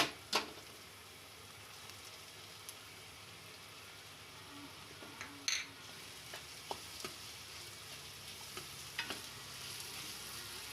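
Capsicum and onion fry in a pan for paneer bhurji, giving a quiet, steady sizzle broken by occasional sharp stirring clicks and scrapes of a spoon.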